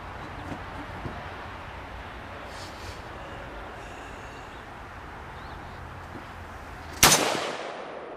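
A single loud gunshot from a firearm fired at a target 50 feet away. It comes after a long stretch of outdoor background noise and is followed by a brief ringing decay.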